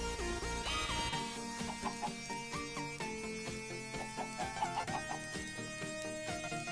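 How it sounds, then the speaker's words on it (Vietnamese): Minecraft chickens on a survival farm cluck in short repeated bursts, faint and buried under steady game background music, with no voices. "Gà lưỡng tính á"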